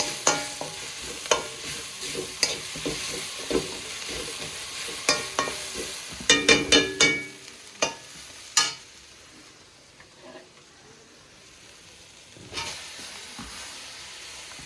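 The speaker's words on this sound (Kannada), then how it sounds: "ಇದನ್ನು ಬಾಡ್ಸೋಕ್ಕೆ ಶುರು ಮಾಡ್ತೀನಿ ಸ್ವಲ್ಪ ಹೊತ್ತು." Tomatoes for masala puri sizzle and fry in a pan at a food cart while a spoon scrapes and stirs in repeated sharp clanks, with a steady frying hiss underneath that thins out toward the end.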